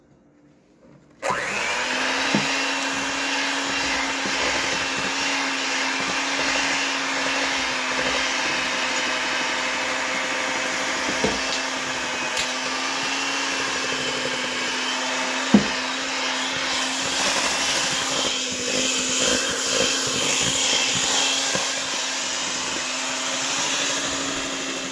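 An electric mixer beats homemade cornbread batter of butter, eggs and dry ingredients, switching on after a second of quiet and then whirring with a steady, even motor hum for over twenty seconds.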